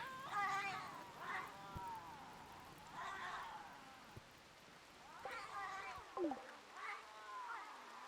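Angry man-eating cats in the video game RimWorld, repeated yowling meows arriving in several bursts across the clip, fairly loud and close, with a short sliding whine near the end.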